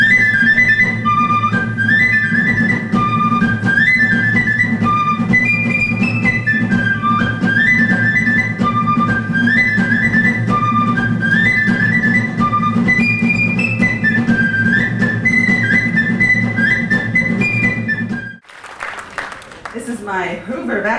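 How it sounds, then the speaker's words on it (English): An Irish tin whistle plays a lively, continuous melody of bright high notes over a steady low backing for nearly twenty seconds, then stops abruptly as applause and cheering break out. "The Irish tin whistle, and if I may quote Dr. Ruth, size doesn't matter."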